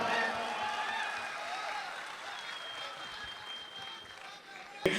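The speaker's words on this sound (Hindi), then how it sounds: "आपकी जोरदार तालियां।" Steady applause from an audience at a mushaira poetry gathering in Dubai fills the clip, moderately loud and continuous, with a sharp knock near the end.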